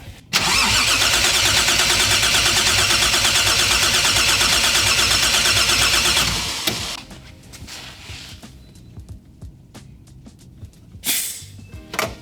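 A Toyota 2JZ engine cranks and runs loud and steady for about six seconds during a warm compression test, then cuts off, leaving quieter clicks and shop noise with a brief burst near the end.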